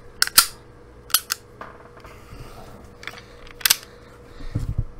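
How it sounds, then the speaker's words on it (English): A Taurus 9mm compact pistol is handled: a few sharp metallic clicks come at spaced intervals, and a duller low thump near the end fits the magazine dropping free. "Or I'm just going to drop that mag."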